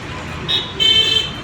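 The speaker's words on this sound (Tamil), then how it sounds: "பாருங்கள் டிராஃபிக்கை பாருங்கள் எவ்வளோ டிராஃபிக் தெரியுதுங்க" Busy road traffic hums steadily while car horns toot in short, bright bursts, one brief beep followed by a longer, wavering honk partway through, all moderately close.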